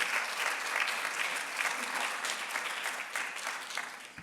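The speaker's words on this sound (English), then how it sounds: "Round of applause for Amanda." Warm round of applause at a College of Medicine convocation and awards ceremony, many hands clapping in a thick steady wash that gradually thins near the end.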